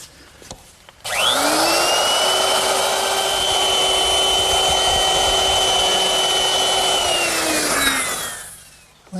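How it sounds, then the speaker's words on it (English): A router with a 1/4-inch round-over bit, only partly exposed, eases the edge of a wooden rail for a Shaker wall clock. It gives one loud, steady high whine that spins up, runs for about seven seconds and then winds down. "I'm going to use my router. And I've set it up with a 1/4 inch rounding over bit"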